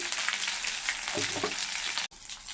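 Turmeric goes into spices frying in a pan for a bottle gourd and lentil fritter curry, giving a steady close sizzle with a short burst of stirring, then a sudden break before the hiss resumes.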